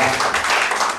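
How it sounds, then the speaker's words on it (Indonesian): A church congregation claps after a praise and worship performance, a short, dense burst of many hands clapping at once, loud and close. "Tepuk tangan dong buat mereka."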